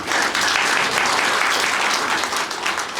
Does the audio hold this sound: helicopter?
no